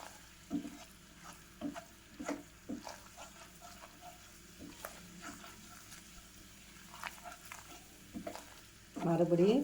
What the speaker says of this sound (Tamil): விடாமல் கிண்டுங்க.